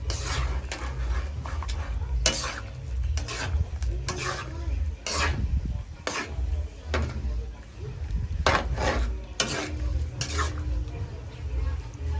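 Pancit guisado stirred and tossed in a pan at home, with repeated scraping and clattering of the utensil against the pan over a low sizzle, close by and in an uneven rhythm.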